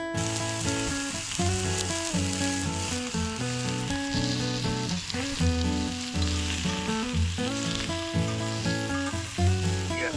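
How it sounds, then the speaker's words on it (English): Sausage, peppers, onions and an egg mix fry in a pan on a camp stove at a campsite, crackling in a loud steady sizzle with rhythmic stirring clinks. "Now there's the peppers going. It's got the peppers and onions, egg mix in there."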